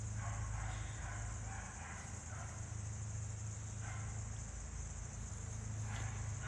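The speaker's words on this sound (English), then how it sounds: "There's dogs barking." Dogs barking in the distance, a few scattered yaps over a steady outdoor hum and hiss.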